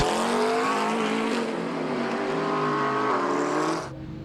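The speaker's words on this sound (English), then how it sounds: "Into the pit lane now comes John Dillon" A GT race car enters the pit lane at Donington, its loud, steady engine roar holding close for several seconds before easing off abruptly near the end.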